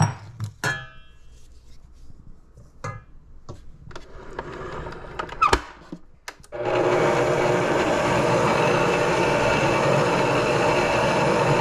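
An electric mixer churns fruit into a black rum cake batter, beginning after a few quiet seconds of scattered kitchen clatter, then running as a loud, steady whirring drone to the end.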